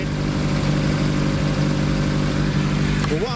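A Nissan Pulsar GTI-R engine idles steadily nearby while warming up, a constant low hum and rumble with no talking.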